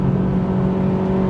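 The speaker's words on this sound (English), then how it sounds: "one of Honda's greatest out-of-the-box creations, the CL7 Euro R, a limited slip diff" A Honda Accord CL7 Euro R engine hums at a steady, fairly loud drone with a strong tonal note, a short sustained run of engine sound without speech.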